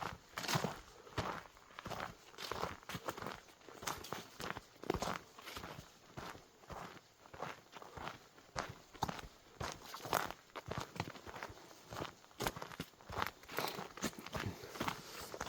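Footsteps walk steadily along a snow-covered, hand-built forest trail, each step a close, crisp crunch in a continuous rhythm, with no talking over them.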